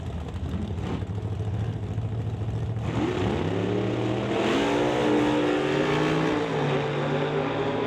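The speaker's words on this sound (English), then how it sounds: "it's got a Hemi. So Mopar motivation for Lane Woolley. Getting ready to bring in the Duster." A Hemi-powered Mopar Duster drag race car's engine roars at a drag strip, a loud, heavy rumble that climbs into a rising rev with wavering tones midway and holds strong to the end.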